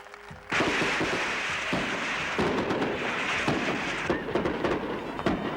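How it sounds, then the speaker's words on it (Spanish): Fireworks at a Spanish victory celebration, heard as a dense, continuous crackle and popping at steady loudness on an old, noisy recording. "fuegos artificiales y procesiones."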